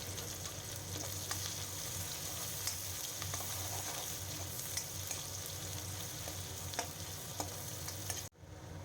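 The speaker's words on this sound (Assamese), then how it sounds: "এই পিঁয়াজখিনি এতিয়া দি অকণমান ভালদৰে ভাজি ল'ম আগতে ৰঙচুৱাকৈ" Chopped onions fry in oil in a wok, a steady close sizzle with occasional stirring clinks and scrapes running continuously, then cutting off abruptly near the end.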